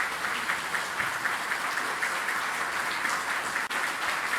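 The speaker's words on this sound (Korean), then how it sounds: "여러분들 따뜻하게 박수로 위로해 주시고 격려해 주시면 좋겠습니다" Warm applause from a Korean church congregation at a dedication service honoring retired elders and deaconesses, an even, sustained patter of many hands at moderate volume with no voices over it.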